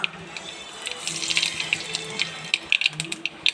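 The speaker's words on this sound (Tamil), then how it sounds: "எண்ணெய் காய்ந்ததும் கடுகு சேர்க்க வேண்டும்." Mustard seeds splutter in hot oil for an ivy gourd poriyal, a close, steady sizzle with sharp crackling pops that grow denser toward the end.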